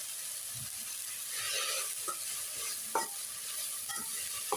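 Moringa flowers and egg frying for a Tamil-style poriyal, soft sizzling in the pan with scraping stir strokes from a spatula at irregular intervals, fairly quiet and close.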